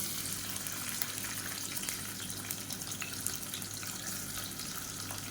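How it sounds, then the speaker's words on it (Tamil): Medium onion frying in hot ghee and oil for Madurai mutton biryani, a steady close sizzle and crackle running evenly throughout with no talking. "வெங்காயம் நல்லா ப்ரௌன் கலரில் வதங்கட்டும்"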